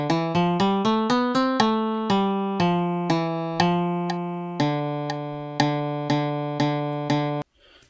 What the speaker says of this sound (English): let's play it again now that we've changed the sound to a steel string.